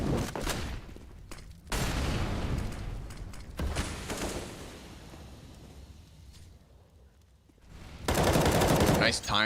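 Gunfire in a competitive Counter-Strike esports match comes as repeated loud bursts of rapid automatic fire, separated by quieter stretches of ambient game noise.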